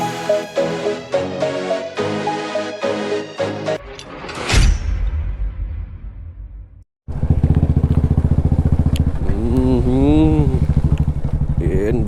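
A motorcycle being seized and taken away by police, its engine running loud and close with a steady throb after a brief cut, while people talk over it.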